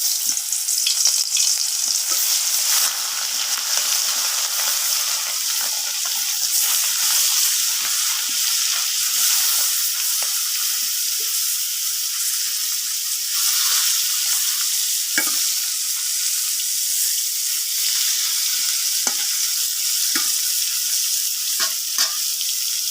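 Small fish rubbed with turmeric, chili and salt fry in hot oil, a loud, dense, unbroken sizzle with hissing crackle that runs close and steady throughout, sprinkled with occasional sharper pops and stirring taps.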